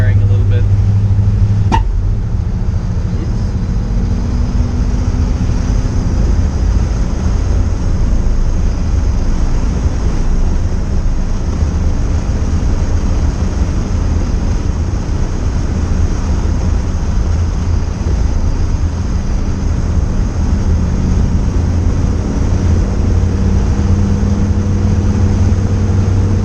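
The Toothpick car's engine runs with a slight misfire, a continuous loud rumble with wind buffeting throughout a long drive, with no talk over it.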